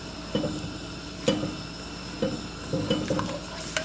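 Black pepper is stirred into eggs in a pan, with soft scraping strokes and a few sharper clinks of utensil on cookware over a faint sizzle, close and fairly quiet, no voices.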